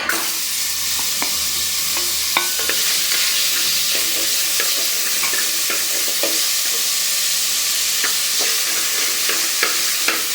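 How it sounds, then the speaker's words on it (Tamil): Mango, banana and jackfruit pieces sauté in ghee in a pan over medium flame, with a constant loud sizzle and frequent scraping spoon strokes close by. "மீடியம் ஃப்ளேமில் வச்சு தான் இதை நம்ம வதக்கணும்"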